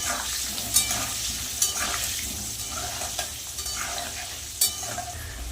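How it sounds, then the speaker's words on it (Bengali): Potatoes fry in oil with turmeric and salt, a close, continuous sizzle broken by a few sharp scrapes of a spoon stirring the pan. "একটু হলুদ দেব আলুগুলো একটু ভালো সিদ্ধ হওয়ার জন্য একটু নুন দিয়ে দেবো দিয়ে ভালো করে লাল লাল করে ভেজে নেব"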